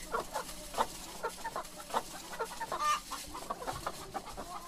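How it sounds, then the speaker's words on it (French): Domestic hens cluck in a busy farmyard, with short overlapping calls and squawks coming steadily and fairly close. "Allez les poules."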